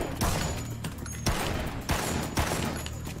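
Rapid bursts of gunfire from the Dead Rising video game, with a few louder shot clusters standing out over a dense, continuous barrage throughout.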